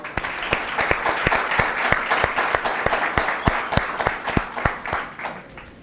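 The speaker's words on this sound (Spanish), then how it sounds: "Aplausos, por favor." An auditorium audience at a seminar on formalizing small businesses claps for an economist: a dense, lively round of applause with distinct close claps, swelling then thinning out toward the end.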